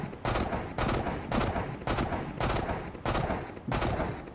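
Rapid automatic rifle fire in the Into The Radius VR video game, coming as six short, evenly spaced bursts, each a loud, dense rattle, with no voices over them.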